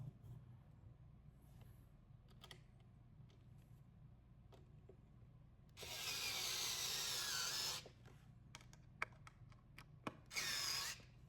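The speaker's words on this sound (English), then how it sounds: "I did bring my like screwdriver just to make it a little easier." A power screwdriver drives screws while an under-desk electric seated pedal exerciser is being assembled. The tool gives one loud whirring burst of about two seconds, then a shorter burst, with small knocks and handling clatter between them.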